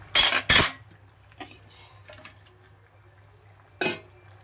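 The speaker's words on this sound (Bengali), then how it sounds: "এবার আমি দিয়ে দেবো ভেজে রাখা মাছগুলো।" Pieces of fried fish are dropped into simmering curry in a pot, giving two sharp splashing clinks close together, a few faint scrapes, and one more clatter near the end over a low hum.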